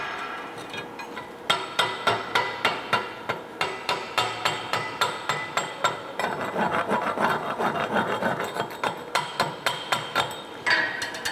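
Rapid, regular metallic chipping and brushing at a welded tee joint bead, a long run of sharp close strikes, briefly blurring into continuous scrubbing midway before the sharp taps resume.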